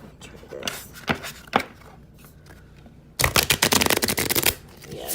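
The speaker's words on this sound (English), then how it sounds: "Nice solid shuffle." A small deck of Aquarian Tarot cards is shuffled by hand, a few scattered riffles and taps under talking, then a dense, loud burst of rapid fluttering card snaps.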